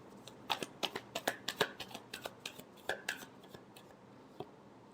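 Tarot cards shuffled by hand up close, a quick run of soft riffling flicks and slaps in an uneven rhythm, fairly quiet and without talk.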